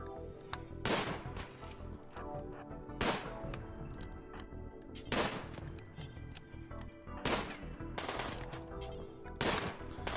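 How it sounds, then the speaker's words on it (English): Sniper rifle shots ring out in the video game Rimworld, five sharp loud cracks spaced about two seconds apart over a steady background of game noise. "we want to use my snipey gun to snipe them"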